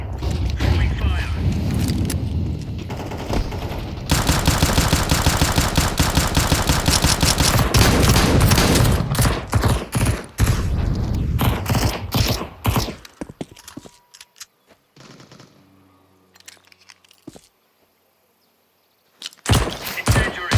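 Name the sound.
grenade, flashbang and incendiary thrown in Counter-Strike video game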